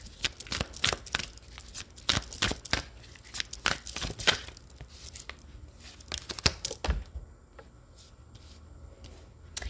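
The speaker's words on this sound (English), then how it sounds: "Let's try shuffling this way." Tarot cards being shuffled by hand, a series of quick papery riffles and rubs in close, irregular bursts that settle into quieter handling near the end.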